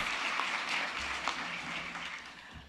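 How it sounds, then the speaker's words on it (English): Steady applause from an audience at a human rights awards ceremony, a dense wash of clapping that holds at an even level throughout, with no voices breaking through. "Round of applause."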